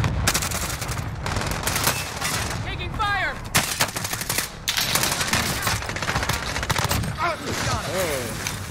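An enemy sentry gun fires in Call of Duty during a Krig-6 match, a dense, continuous barrage of rapid automatic gunfire over other game noise and voices.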